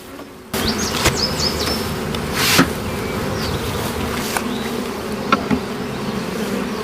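Honeybees buzz steadily and close by as a hive is shaken out in front of other hives outdoors, a dense humming swarm with a few louder individual bees passing near and some dull thumps.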